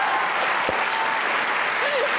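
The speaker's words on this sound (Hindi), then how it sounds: "तालियां बजाइए हमने।" A studio audience at a comedy talk show claps in a dense, steady burst of applause that fills the whole stretch, with a voice briefly heard over it.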